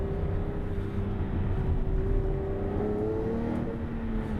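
A car accelerates hard, its engine note rising steadily in pitch through the gears, close and loud with a continuous whir and no talk.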